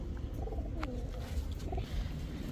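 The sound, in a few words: pigeons cooing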